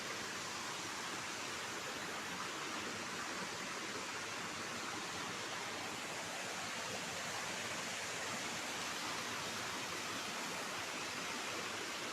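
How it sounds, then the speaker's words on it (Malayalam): Steady rushing water flows continuously, like a small stream, even and unbroken throughout with no voices. "ഇവിടെ തോട് ചാല് എന്നൊക്കെയാണ് നമ്മൾ പൊതുവെ പറയുന്നത്"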